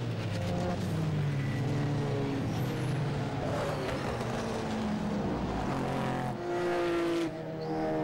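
Several race cars roar past on the track at Oulton Park during an endurance race with BMW, Porsche, Ferrari and Aston Martin entries, engines loud and continuous, pitch shifting as they pass.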